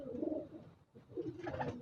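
Pigeons in a loft coo softly, a low, faint warble with a brief pause partway through and no voices.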